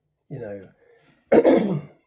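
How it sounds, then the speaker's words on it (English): A single person coughs and clears their throat nearby, two short harsh bursts separated by a brief pause, heard alone without other sound. "I need this cough to go"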